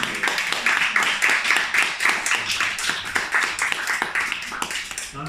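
Steady applause from an audience at a book talk, many hands clapping together in a dense continuous patter, fairly loud and close.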